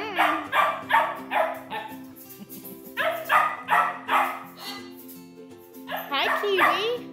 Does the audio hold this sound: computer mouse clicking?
no